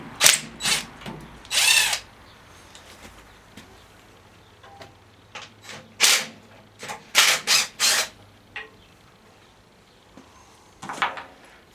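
Power drill backing bolts out of the cover on a Tiller rototiller, several loud bursts of whirring with short pauses between them, close by and with no talk.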